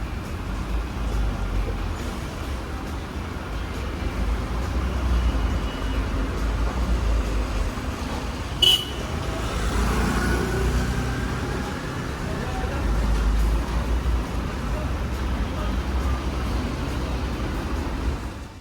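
Night street traffic in Delhi with a taxi nearby, a steady broadband rumble of engines and road noise running throughout, with a brief sharp click midway and voices murmuring faintly underneath.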